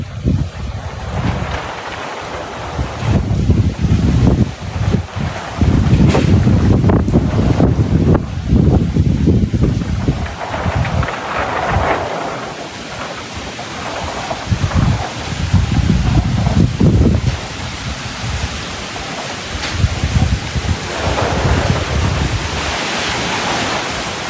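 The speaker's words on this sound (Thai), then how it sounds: "ทุกคนพายุมาทางนี้ พายุมาทางนี้ พายุมาทางนี้" Strong storm wind gusting around a house, heavy buffeting roar that swells and drops in waves, loud and close with microphone wind noise, no clear thunder.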